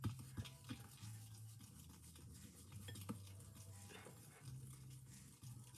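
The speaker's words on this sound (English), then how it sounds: "Okay, so we gotta mix it until there's like no white left." Stirring and mixing sugar-like pebbles for a homemade volcano experiment: a utensil scrapes and clinks against a container in quick irregular strokes, faint and close, with no speech.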